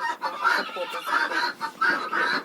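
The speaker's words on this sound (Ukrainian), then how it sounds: "І дивіться, що Там заходить курочка." A laying hen clucking as she steps into a new nest box in a farmyard coop, several close, throaty bursts of clucks in quick succession, fairly loud and alone.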